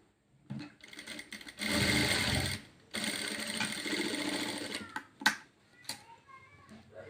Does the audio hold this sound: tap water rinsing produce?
no